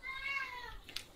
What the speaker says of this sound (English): My cat wants me, Bjorn.